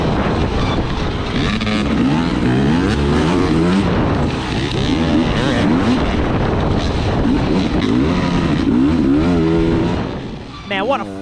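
A dirt bike engine on a sprint enduro test at the Gert Memorial enduro, revving loud and close with rapid rising and falling throttle bursts and wind buffeting, fading briefly near the end.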